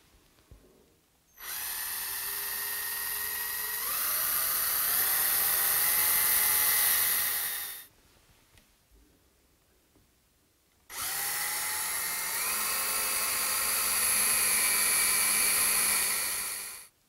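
A power drill bores 3.3 mm pilot holes for mounting a lathe scale, running as two separate high-pitched whining bursts of several seconds each with a quiet pause between them.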